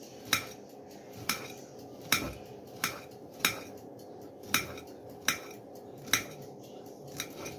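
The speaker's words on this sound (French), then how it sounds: "La banane, je la coupe en rondelles tout simplement" A knife cuts a banana into rounds on a board, about ten sharp, evenly spaced taps, close and fairly quiet, with no talking.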